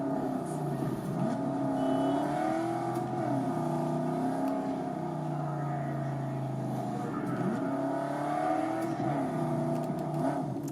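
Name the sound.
car driving in Cyberpunk 2077 video game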